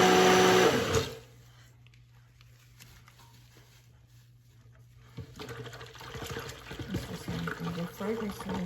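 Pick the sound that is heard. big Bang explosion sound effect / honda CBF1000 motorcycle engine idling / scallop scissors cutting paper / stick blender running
stick blender running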